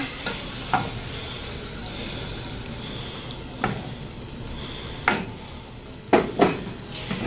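Chocolate stirred into sugar melting in a pan for a carrot cake topping, a soft steady sizzle beneath several sharp utensil scrapes and knocks against the pan, clustered near the end.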